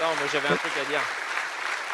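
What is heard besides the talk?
applause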